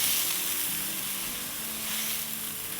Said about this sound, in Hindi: प्याज़ों को ब्राउन नहीं करना है, बस जरा सा सौटे करना है।